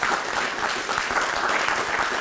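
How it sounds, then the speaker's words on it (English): Sustained audience applause at a film workshop, a steady wash of many hands clapping from start to finish at an even loudness, without any speech on top. "Can we give a round of applause to those people that have made that possible?"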